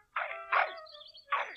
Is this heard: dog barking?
yes